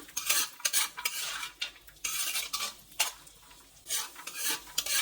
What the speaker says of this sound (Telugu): ఇంకాస్త నెయ్యి వేసుకొని డ్రై ఫ్రూట్స్ని ఫ్రై చేసుకుందామండి. సిమ్లో పెట్టుకుంటూ ఫ్రై చేసుకోవాలి.